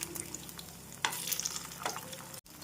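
Paneer cubes shallow-frying in oil on a tawa give a steady close sizzle, broken by a few brief spatula scrapes and stirring clatters.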